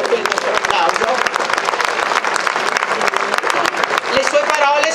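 Audience applause at a 25 April commemoration event in Malnate, Italy: steady, dense, loud clapping that runs throughout, with voices mixed in.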